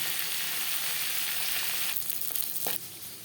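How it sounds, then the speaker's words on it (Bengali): Pieces of fasha fish fry in hot oil with a dense, hissing sizzle close up, then a scrape and clatter as the sizzle drops to a quieter bubbling near the end. "পরের মাছ একইভাবে ভেজে নেব"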